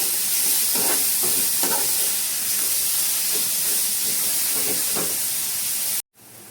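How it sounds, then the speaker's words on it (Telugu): Turmeric, salt and garam masala are stirred into a sizzling egg and onion mixture in a hot pan, a steady close frying hiss with soft periodic scraping strokes, ending abruptly. "మొత్తానికి ఒకసారి బాగా కలుపుదాము ఇలాగా."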